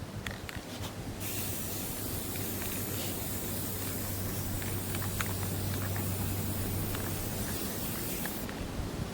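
A steady hiss of hunter green spray paint from an aerosol can, sprayed inside a box, runs for several seconds, close and fairly quiet, over a low background hum.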